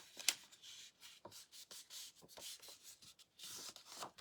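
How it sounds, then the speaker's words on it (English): Scored paper being folded by hand into an envelope, a quiet series of soft rubbing and creasing strokes with short pauses between them, close up and with no talking. "So you've got your 3 sides, and then you're just going to fold them."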